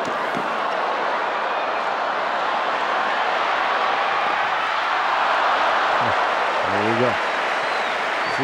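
Sustained crowd applause at a US Open tennis quarterfinal between Pete Sampras and Andy Roddick, a dense, even wash of clapping filling the whole stretch, with a few thuds and a brief tonal blip near the end.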